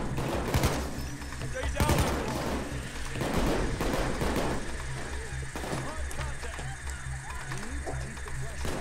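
Rapid gunfire in the heist game Payday 2, repeated shots and bursts near and far under a steady game background, with people talking over it.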